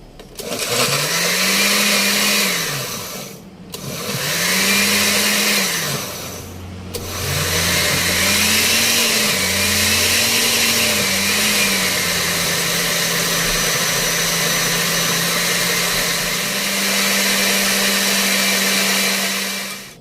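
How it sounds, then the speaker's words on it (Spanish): A blender runs loudly for a long stretch, blending jalapeño and requesón salsa, its motor whining up and down in pitch with a couple of brief stops, no talking. "Vamos a licuar."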